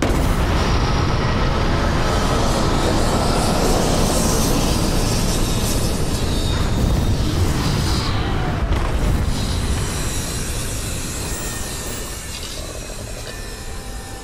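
A spaceship in Starfield goes through its landing sequence, with a loud, dense engine roar and rumble that holds steady and then slowly fades toward the end.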